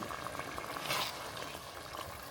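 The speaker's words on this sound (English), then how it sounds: "so those noodles can cook" Egg noodles simmering in boiling beef broth in a pot, a steady soft bubbling and hissing that runs unbroken and fairly quiet throughout.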